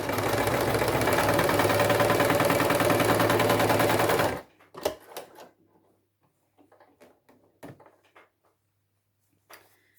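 A home sewing machine stitches a scrappy basketweave table runner in a steady, loud mechanical whir for about four seconds, then stops, leaving faint clicks and handling sounds.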